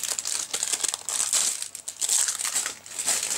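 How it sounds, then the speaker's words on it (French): A small piece of paper is crumpled and crinkled in the hands close by, giving continuous rustling bursts that swell and fade without pause, with no speech over it. "Je vais prendre un petit bout de papier pour vous montrer."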